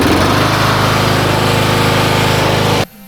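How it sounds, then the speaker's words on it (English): A riding lawn mower's small engine runs steadily and loud with a constant harmonic drone, then cuts off abruptly near the end, leaving quiet. "we're going to wrap this video up right here while this engine runs"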